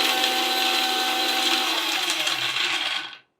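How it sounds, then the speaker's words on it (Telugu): A kitchen mixer grinder whirs loudly and continuously as it grinds custard apple seeds and onion seeds into powder, a dense high rattling roar held close for about three seconds before cutting off abruptly. "మిక్సీ పట్టేసేయాలి."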